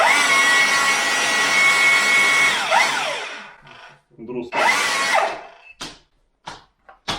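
A Hilti SDS-MAX rotary hammer runs loudly at close range with a high motor whine, then winds down; it is followed by several short bursts of revving and stopping.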